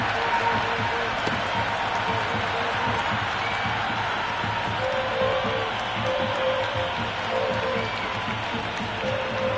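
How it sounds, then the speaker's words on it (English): A raucous crowd at an IPL T20 cricket match between Sunrisers Hyderabad and Royal Challengers Bengaluru, a dense, continuous stadium roar with clapping and cheering, loud and unbroken, with commentary voices faintly underneath. "The crowd are really getting quite raucous."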